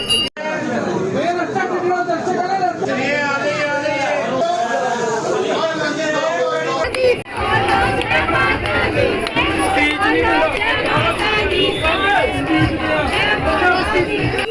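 Crowd of devotees gathered at a temple on the first day of Navratri, dense close chatter and overlapping voices forming a loud continuous hubbub.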